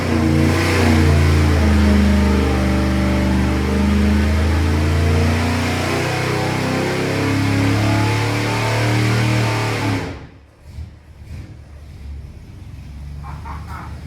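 A Chevy 355 small-block V8 on a dyno roars at sustained high revs for about ten seconds, then cuts off abruptly, leaving quieter shop noise.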